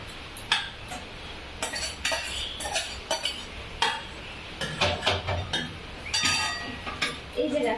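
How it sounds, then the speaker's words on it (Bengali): Spiced fish frying in a home kitchen pan as a utensil stirs and clinks against the metal, repeated scraping taps over a low sizzle, close up, with a voice talking at times. "এবার একটু ভেজে দিচ্ছি।"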